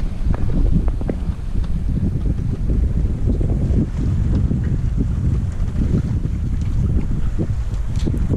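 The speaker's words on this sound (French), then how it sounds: "Passage du Cap Créus à la voile, en vente arrière, sans appui moteur, par 15 nœuds." A sailboat runs downwind under sail alone, with no engine, off Cap Creus in a 15-knot breeze. Steady wind buffeting and water rush continue throughout, loud and close, with no talking.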